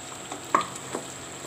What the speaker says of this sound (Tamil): இப்போ நல்லா கலந்து விட்டுருவோம்